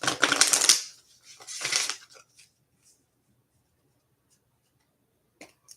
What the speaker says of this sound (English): Ari, I'm gonna start shuffling for you.